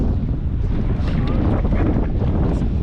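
Strong wind roars steadily against the microphone at night while fishing with nets, a dense, continuous buffeting rush with no pauses.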